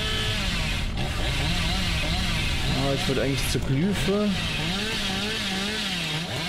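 The Hillbilly's chainsaw revving in Dead by Daylight, a steady buzzing engine drone running the whole time with a rising, wavering pitch, under someone talking over it.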